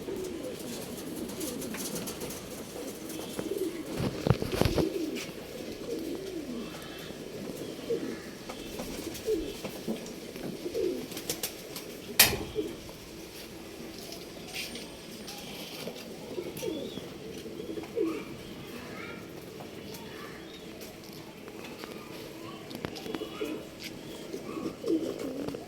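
Pigeons coo steadily throughout, a pair of a sabja (greenish) male and a white bhoori female offered for sale in RT Nagar, Bangalore; soft repeated low coos close by, with occasional wing rustles and a brief sharper knock near the middle.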